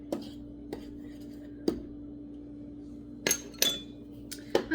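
A utensil mixing cookie dough in a bowl for whole wheat peanut butter s'mores cookies, with sparse, sharp clinks and taps against the bowl spaced out over a quiet background hum.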